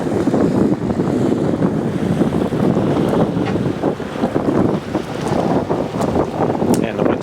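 Wind blusters across the microphone aboard a Jeanneau sailboat out on the water, a loud, continuous rumbling roar that rises and falls in gusts for several seconds, with faint wash from the water beneath.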